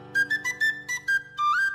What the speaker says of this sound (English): SpongeBob and Patrick get new slide whistles and are constantly playing them